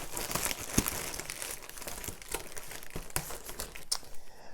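Scissors cut open a mailed package of books, with packaging crinkling and crackling in quick, close irregular bursts and a few sharper snips, and no talking.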